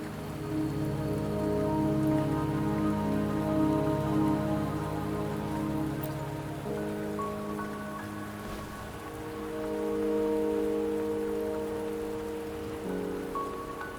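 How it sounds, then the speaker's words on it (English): Steady rain in the video game Wuthering Waves patters down on a surface without pause, with a soft, layered musical drone running underneath it. "Don't worry, the rain won't last much longer."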